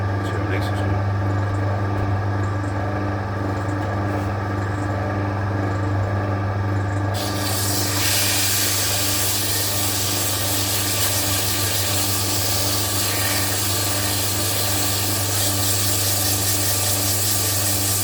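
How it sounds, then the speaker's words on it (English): Sandpaper pressed against a wooden French rolling pin spinning on a lathe, a loud steady hiss and rasp over the motor's constant hum, growing harsher partway through, with someone talking over it. "I might just hit it with a wee bit of sandpaper"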